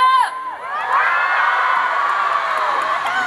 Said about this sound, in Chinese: 还有掌声给我们的乐队老师